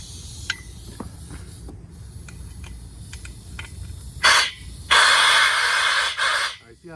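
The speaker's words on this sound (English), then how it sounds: "See how the air is just blowing through?" Air from a tire valve on a tire pressure sensor replacement job hisses in two loud broadband bursts, a short one then a longer sustained one, standing out against quiet background shuffling.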